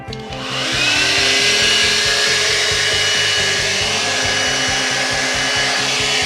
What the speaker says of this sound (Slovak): zelená kontrolka zasvietila a zapínam fén